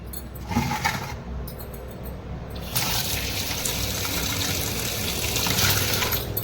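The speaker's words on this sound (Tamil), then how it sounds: "நம்ம ரெண்டு டைம் மஞ்சத்தூள் போட்டு தண்ணி ஊற்றி நல்லா வா வாஷ் பண்ணி எடுத்துக்கலாம்" Tap water gushes and splashes over raw crabs being washed with turmeric, a few brief splashes first, then a loud continuous rush of running water.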